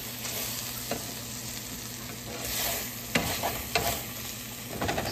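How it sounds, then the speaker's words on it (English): Okra and Polish sausage frying in a pan with oil, giving a steady sizzle at moderate volume, broken by several scraping clacks as the pieces are stirred. "So we'll let that cook and then I'll stir it up."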